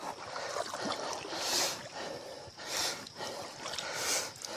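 A boat is paddled fast through water, with rhythmic splashing strokes and gurgling roughly every second and a half, close and fairly loud, with no talk.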